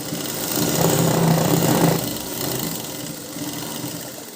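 A sewing machine stitches a size 34 blouse, giving a close, steady mechanical whir that swells for about a second and a half and then settles into a quieter running hum.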